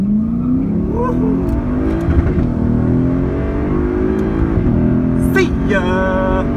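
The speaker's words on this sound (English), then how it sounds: "got a Pontiac G8 that I'm running against" A Lexus IS F launches down a drag strip against a Pontiac G8, its engine droning loud and close, rising steadily in pitch through the run with a shift near the end.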